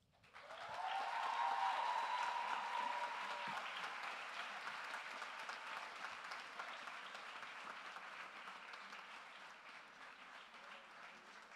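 Applause at a community college graduation ceremony, a large crowd clapping in a sustained wash that swells quickly and slowly fades, heard from some distance, with a faint voice briefly rising over it near the start.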